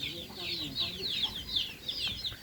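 Chickens cluck in a farmyard, a run of quick repeated clucks in a steady rhythm, fairly close, with faint background noise underneath.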